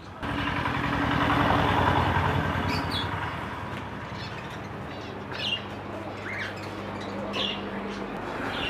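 Scattered bird chirps at a roadside bird shop in Gangamaro, thin and intermittent over a steady traffic and engine rumble, with faint voices in the background.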